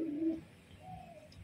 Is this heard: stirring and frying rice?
no